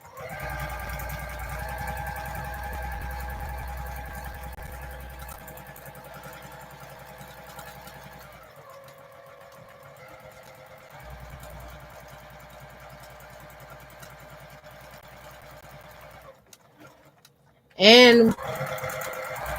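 A domestic sewing machine doing free motion quilting runs steadily with a droning whir that pauses and restarts, ending with a brief loud burst near the end.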